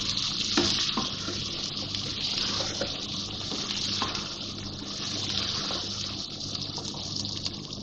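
Whole spices for white biryani, including green and black cardamom, cinnamon, nutmeg and mace, frying in a pot with a steady sizzle and a few stirring knocks throughout.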